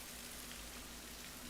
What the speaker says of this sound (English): It's currently raining after the story.